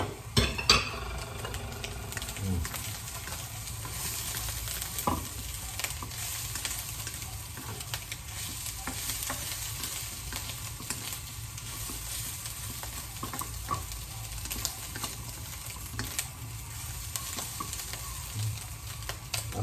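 Food sautéing in a pan for pancit miki, a steady low sizzle and frying hiss with occasional stirring and faint utensil clinks, fairly quiet and continuous without talk.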